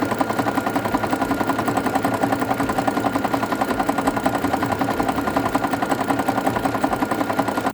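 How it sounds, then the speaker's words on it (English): A sewing machine stitches rope into a coiled coaster, running in a steady, close, rapid mechanical chatter that holds an even rhythm throughout. "this is essentially the basics of rope sewing"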